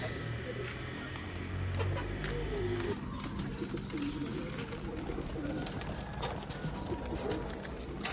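Domestic pigeons cooing softly close by as they are released to fly, low burbling calls repeating under someone speaking throughout.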